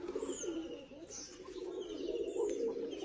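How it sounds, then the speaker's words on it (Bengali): Pigeons coo in a low, rolling murmur at their house in a Bangladeshi village, a few birds overlapping closely with light chirps above. "এখন আমরা একটু কবুতর, হাঁস, মুরগি এদের এখানে যাচ্ছি।"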